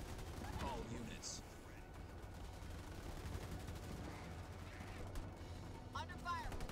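Ground troops firing in Halo Wars 2, with a dense, continuous rattle of gunfire and scattered impacts at moderate level, mixed with game voice lines and other talk.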